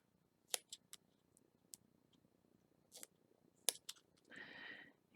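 Scissors cut paper for a shaker card: a handful of sharp, close snips spaced unevenly over a few seconds, then a brief papery rustle at the end, with no voice.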